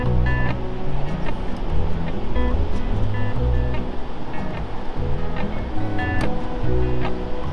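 Sea waves wash onto a beach along the Wild Atlantic Way in Ireland in stormy weather, a steady loud roar of surf that swells and ebbs, with occasional faint tonal hums in the background and no voices.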